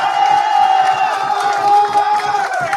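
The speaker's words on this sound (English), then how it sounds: "Now y'all can clap." A close, loud crowd cheers and whoops for a few seconds, with what sounds like clapping running under the shouting.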